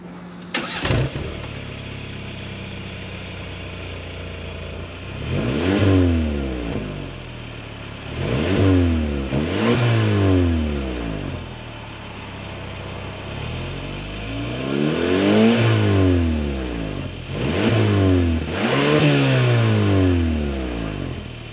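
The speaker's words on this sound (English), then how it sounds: "Let's take a listen to what this sounds like at the tailpipes." A 2025 Kia K5 GT mid-size sedan's exhaust revs repeatedly at close range at the tailpipes, each throttle blip rising and falling, with idling rumble between the bursts.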